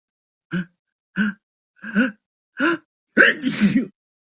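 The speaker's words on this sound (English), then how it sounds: "time to make him sneeze" A cartoon character in a game builds up to a sneeze: four short, evenly spaced breathy gasps, then one louder, longer burst as the sneeze lands, close and clear with no talk over it.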